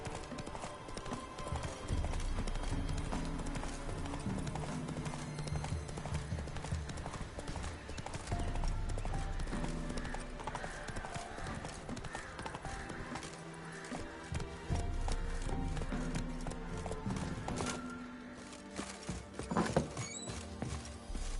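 Roach, Geralt's horse in The Witcher 3, gallops in a fast, steady hoofbeat rhythm on open ground, loud and continuous over game music and ambience, with a brief burst of louder clatter near the end.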